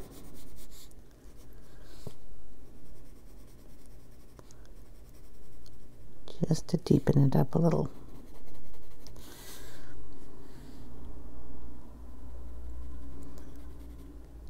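A black pencil scratches across the page of an adult colouring book, quiet steady strokes building into a brisk burst of dense shading before easing off; a voice speaks briefly.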